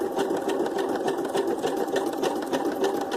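Sewing machine running a decorative swirl stitch on a paper junk-journal tag, a close, steady rhythmic clatter of rapid needle strokes throughout, with no talk.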